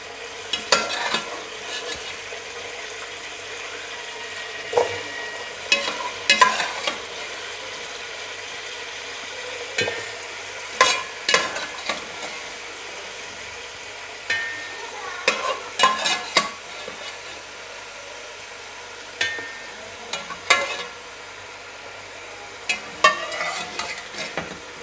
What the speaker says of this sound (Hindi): ये गोश्त मैंने इसमें डाल दिया है और इसको हम थोड़ा सा भुनेंगे